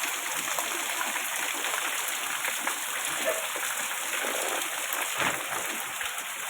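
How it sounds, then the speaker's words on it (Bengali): Heavy rain falls outside in a steady, dense hiss with splashing, constant and loud from start to finish, and no voices stand out. "দেখো বাইরে প্রচণ্ড বৃষ্টি হচ্ছে"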